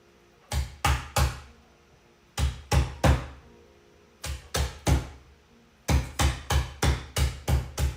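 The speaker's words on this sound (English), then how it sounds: "If you can hear me over this hammering." Loud hammer blows land in short bursts of two to six strikes, separated by brief pauses, sharp and close.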